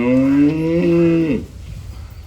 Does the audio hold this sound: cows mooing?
yes